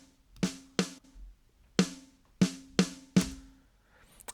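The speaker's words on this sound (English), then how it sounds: "the first thing I'm doing is an EQ move, adding a bunch of low end around 120 Hertz" Pop punk snare with an EQ boost of low end around 120 Hz, struck six times in a loose pattern, each hit punchy and close with a fuller, ringing body, heard alone.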